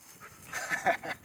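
A dog pants close by in short, uneven breathy bursts during an outdoor walk, moderately loud with no talking over it.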